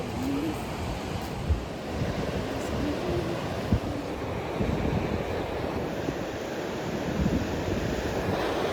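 Sea waves wash onto a beach in Bicol as a steady, broad surf roar with wind buffeting the microphone, continuous and fairly close for the whole stretch without any clear speech.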